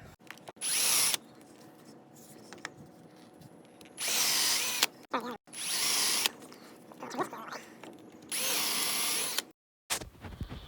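Power drill boring into a red oak board through a cheap drill guide, four loud separate bursts of high motor whine and cutting, each lasting about a second, with quiet gaps between them.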